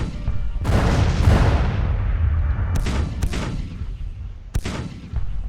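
Artillery fire in the Civil War strategy game Grand Tactician, with loud booming cannon blasts at irregular intervals, one heavy volley early then several sharper reports, over a continuous rumbling battle din.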